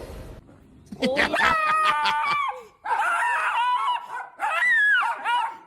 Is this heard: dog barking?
yes